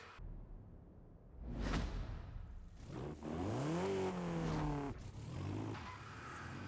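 Wuling Sunshine van driving in the racing game Forza Horizon 5, with a whooshing pass then an engine revving up through rising gear sweeps, moderately loud and continuous.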